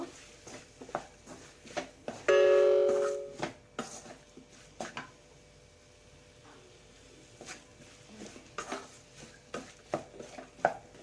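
Brinjal being fried and stirred with masala in a pan: quiet, intermittent scrapes and clinks of a spoon against the pan, with one brief louder metallic rattle, alone and fairly close.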